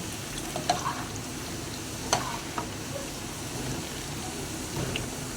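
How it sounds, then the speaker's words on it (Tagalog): A spoon scrapes and stirs hot food in a cooking pot, a steady close bubbling hiss broken by a few light metallic taps against the rim. "Okay, haluin lang natin."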